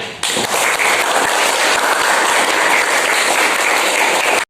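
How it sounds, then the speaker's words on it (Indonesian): Applause after the Indonesian anthem Indonesia Raya at a Youth Pledge commemoration, a full steady crowd clapping that starts abruptly, holds evenly and cuts off at the end. "Sekali lagi beri tepuk tangannya."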